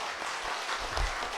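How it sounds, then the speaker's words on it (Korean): A church congregation applauds a visiting missionary with steady, dense clapping that fills the room, moderately loud with no voices on top. "우리 류웨이 선교사님, 우리 박수 부탁드리겠습니다"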